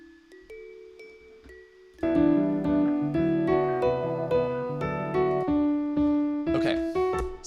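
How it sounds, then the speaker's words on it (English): Rough synthesized bell layers from an Ableton session, a few soft tones at first, then a loud sustained cluster of ringing bell notes entering about two seconds in, struck in a steady repeating pattern with bright overtones. "that's a rough bell sound"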